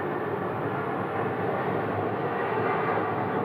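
A Boeing 737 MAX 8 departs Phoenix Sky Harbor airport, its jet engines a steady, moderately distant broadband roar that holds evenly throughout with no voices.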